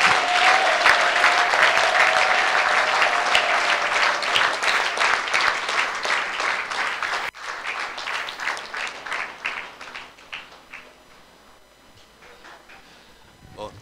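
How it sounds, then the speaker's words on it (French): A congregation at a prophetic church gathering applauds. The loud, dense clapping gradually thins and fades toward the end. "Acclame pour toi-même."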